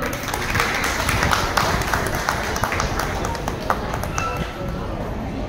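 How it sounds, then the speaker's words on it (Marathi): Applause at a Marathi village gathering's annual get-together: a steady patter of many hands clapping, moderately near and continuous, with voices murmuring underneath. "टाळ्या झाल्या पाहिजे."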